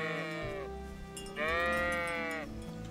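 Sheep in the video game Kingdom Come: Deliverance bleat close by, two long wavering calls, the second louder, over a low background hum.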